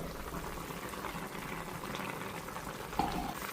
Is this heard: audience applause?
no